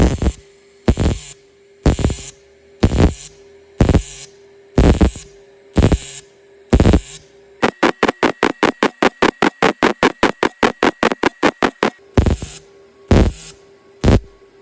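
Robotic cobot welder working 3/8-inch carbon steel plate at a T-joint, giving two welds: first a run of evenly spaced arc bursts over a steady hum, then a rapid pulsing stutter, then spaced bursts again, loud and close.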